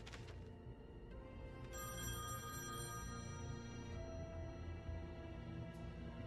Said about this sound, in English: Nobody's awake to answer the phone.